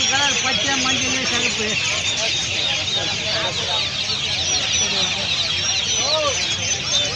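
Many country chickens cluck continuously at a crowded Pallavaram market in Chennai, with voices talking among them.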